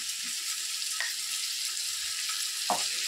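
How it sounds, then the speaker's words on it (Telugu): Fresh ginger garlic paste frying in a pan, a soft, even sizzle heard close with a couple of brief scrapes or clinks, fairly quiet and without talk. "మనం ఫ్రెష్గా ఆడించుకున్న అల్లం తెల్లవాయి పేస్ట్ వేసేయాలి."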